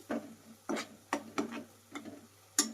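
A spoon beats half a spoon of turmeric into beaten eggs for egg bhurji, making six quick, close clinks and scrapes against the bowl at a steady rhythm, with no voice.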